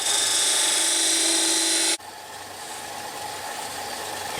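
A wood lathe spins a tippe top blank through a parting cut: a loud, steady high whine for about two seconds that stops abruptly, leaving a quieter broadband hum of the lathe running on.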